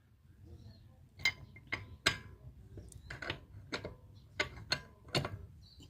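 A wheel spanner works loose the remaining wheel nuts on a car after they proved hard to unscrew, giving a run of sharp metallic clicks and ratcheting snaps at irregular intervals, close and fairly loud, with no talk over them.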